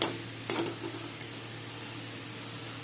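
Spices tipped onto softened ash gourd in a hot pan, a steady low sizzle with a few brief clatters and scrapes from a spoon at the pan.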